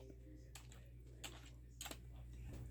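A dog pawing at a computer keyboard gives a few faint, scattered key clicks spaced over a couple of seconds against a low, quiet room background.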